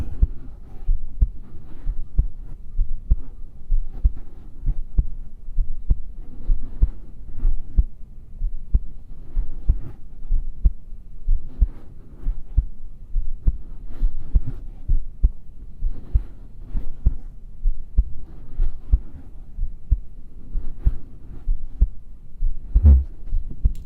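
A steady heartbeat in a calm sleep ASMR setting, a continuous series of soft low thumps in an even rhythm, close and muffled, with no talking.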